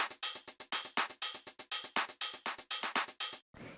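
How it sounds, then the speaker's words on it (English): A punchy house-music drum loop with a crisp clap sample snapping in steady rhythm, about sixteen sharp hits over a tight groove before a short, softer tail. "I brought in the clap. So the clap sounds like this."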